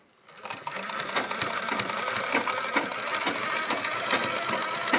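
A small sewing machine stitches fabric with a fast, steady mechanical whir and rapid needle clatter, starting after a brief pause and running close and continuous to the end.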